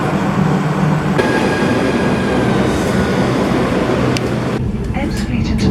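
Train noise in a large station concourse at St Pancras, with steady loud rumble and rolling rail sounds that continue throughout, a sharp change near the end, and voices under the din.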